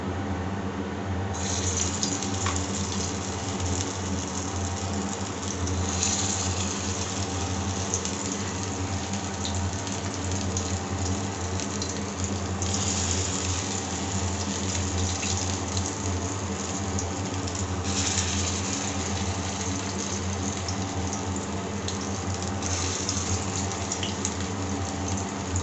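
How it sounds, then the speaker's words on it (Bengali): Soybean balls frying in hot oil in a wok, a steady dense sizzle and bubbling that runs continuously at an even level with no voices. "কড়াই তেল গরম হয়ে গেছে, আমি এগুলো ছেড়ে দিচ্ছি।"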